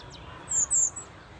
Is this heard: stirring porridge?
no